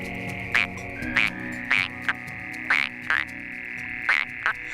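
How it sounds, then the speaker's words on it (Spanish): Frogs and toads croak at a pond in a steady series of loud, close calls, each a short bright burst repeating roughly every half second to second over a continuous low chorus. "Las ranas y sapos son grandes consumidores de insectos."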